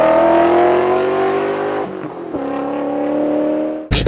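A BMW E39 M5 with 409,000 miles drives by, its loud engine note rising and holding steady before fading with a brief shift in pitch, then an abrupt noisy burst at the end; no talking.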